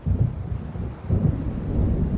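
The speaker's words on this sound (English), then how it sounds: "It seems there's a storm coming." Low rumbling thunder rolls in a video game storm, swelling in two or three deep surges under a faint windy hiss, distant and heavy with no voices.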